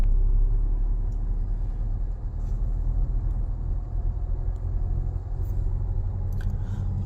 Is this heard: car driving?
yes